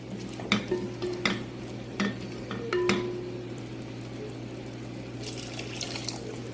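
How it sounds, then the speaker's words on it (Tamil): Water is stirred into a Thanjavur-style fish curry in a pot, with several distinct spoon clinks and scrapes spaced about a second apart over a low steady hum, then soft liquid sloshing. "இதில் கொஞ்சம் தண்ணி சேர்த்து கிண்டி விட்டுக்கோங்க"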